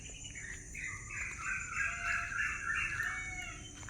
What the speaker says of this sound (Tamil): குருவி சத்தம், மயில் சத்தம் எல்லாமே கேட்குது.